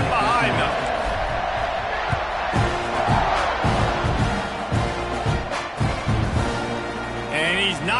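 A big football stadium crowd roars continuously at kickoff, a dense sustained wall of cheering with some louder swells, while a commentator talks over it.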